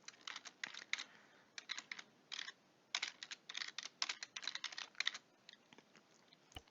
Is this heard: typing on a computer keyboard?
yes